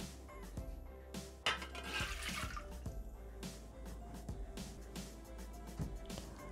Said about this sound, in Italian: Mettere nel boccale l'acqua.